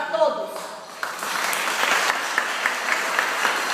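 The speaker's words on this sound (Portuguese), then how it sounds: "Uma salva de palmas para todos." A round of applause from an audience at a community event swells after a brief voice at the start, then holds as steady mixed clapping with a few sharper claps standing out.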